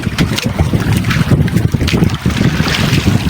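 Strong typhoon wind roars and buffets a fishing boat at sea, a loud continuous rush with gusting microphone rumble and the low slosh of water, with no voices heard.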